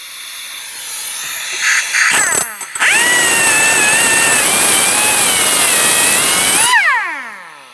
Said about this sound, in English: Use my cutting wheel for this.